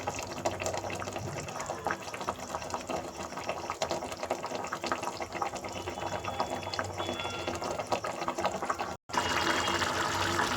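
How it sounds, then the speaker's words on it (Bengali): Water poured into a pan of fish curry makes a steady, continuous splashing and bubbling rush that fills most of the stretch, breaking off for a moment near the end before resuming; no one talks. "জলটা দিয়ে দিলাম।"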